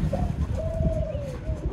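Pigeons coo at a rooftop trap where a female pigeon has been set out as a lure, a soft, steady burble running low under a thin, drawn-out tone and light background noise.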